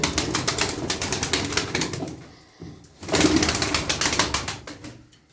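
Pigeons in a loft coo in soft repeated phrases amid a busy rhythmic rustle and fluttering, with a brief lull midway before the cooing and activity resume close by.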